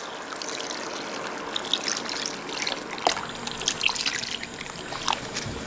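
Broth is poured into a hot pot, a close liquid trickle and splash with bright dripping spatters that swell and fade over a few seconds, no voices.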